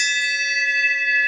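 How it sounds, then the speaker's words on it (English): A hand bell rings out once at close range, a bright sustained metallic tone with several steady overtones that holds and slowly fades over about a second, with no voices. "I'm going to have to ring the bell my own self"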